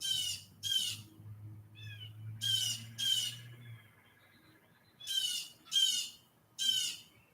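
A bird in a tree outdoors gives repeated harsh squawks in paired and triple bursts with short gaps. A faint low hum runs underneath, and no one talks.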